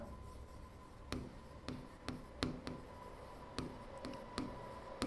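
A pen writes by hand on paper while a table is drawn for a class 7 maths proportion problem. Steady scratching strokes are broken by several sharp taps and short pauses, heard close and alone without talk.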